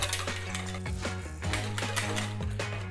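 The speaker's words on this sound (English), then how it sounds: "we're gonna start to whisk this up" A whisk beats a large egg in a mixing bowl, giving quick irregular clicking and tapping against the bowl over steady background music.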